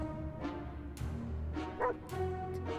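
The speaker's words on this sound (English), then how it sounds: "It's the dog! He came back!" A dog barks and yips in the survival video game 60 Seconds Re-atomized, several short sharp barks spaced irregularly with a whimpering edge, close and fairly loud, with no talking over them.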